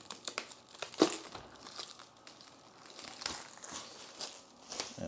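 Plastic protective wrap being ripped off the body of a Fluval FX6 canister filter, giving scattered crinkling and crackling with a sharp tear near the start, fairly close and quiet, with no voices.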